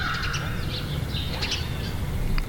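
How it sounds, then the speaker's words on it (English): Crows caw a few times at a distance over a low steady outdoor rumble, with no one talking. "Can you hear the birds?"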